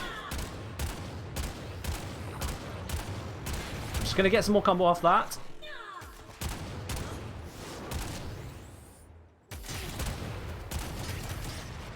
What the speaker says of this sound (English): I'm switching between forward attack and standing attack, which allows me to switch between 2 different gunshots repeatedly